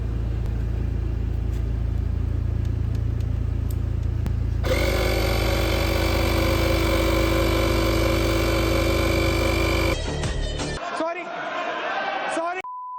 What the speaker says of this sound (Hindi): कार का एग्जॉस्ट साउंड नोट आपको पसंद आया होगा